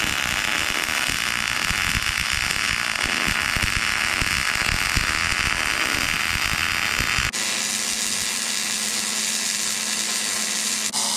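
Truss welding onto a Jeep JK axle tube during a one-ton axle swap: a loud continuous crackling buzz of arc welding, close and unbroken, with an abrupt change in tone partway through, no talk.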